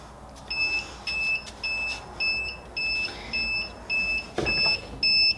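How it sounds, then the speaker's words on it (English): A heat press timer, set to 305 degrees and 5 seconds for applying heat transfer vinyl, beeps about nine times in an even repeating pattern. The tones are high and steady, with faint handling noise and one clunk near the end. "Sometimes you just gotta kind of close it to keep the timer from going off."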